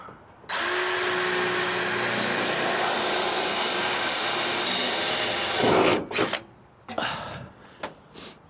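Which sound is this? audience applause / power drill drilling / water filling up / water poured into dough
power drill drilling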